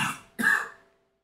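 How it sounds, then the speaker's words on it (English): Two close coughs, a short first burst and then a louder, harsher second one, heard near and alone with no talking. "forgive me my cough"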